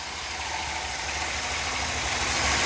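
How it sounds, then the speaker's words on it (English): A 1955 Ford Thunderbird roadster's 292 cubic inch small block V8 with a Holley 4-barrel carburetor idles steadily, a constant close rumble and hiss that swells slightly at the end. "This particular Thunderbird comes with Ford's 292 cubic inch small block V8."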